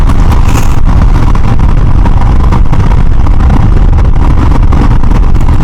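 Royal Enfield Himalayan motorcycle engine running on the road, a loud, steady, close rumble mixed with heavy wind buffeting throughout.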